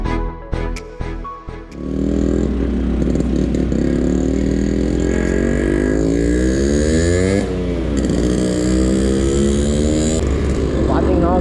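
After a few sharp clattering knocks, a restored Yamaha RX100 two-stroke motorcycle fires up close and loud, its buzzing exhaust rising and falling through repeated revs before settling back.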